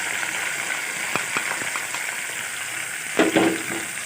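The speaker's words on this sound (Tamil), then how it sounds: "நம்ம பிழிஞ்சு வச்சுருந்த எலுமிச்சம்பழம் சாறு அதையும் சேர்த்துக்கலாம்." Lemon juice hits a hot frying pan of sizzling lemon rice ingredients, giving a steady frying hiss with a few soft splashes and a brief louder burst of sizzle near the end.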